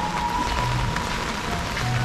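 Heavy rain easing off in a rural village falls as a steady, dense hiss of drops on surfaces, with a faint continuous tone running underneath.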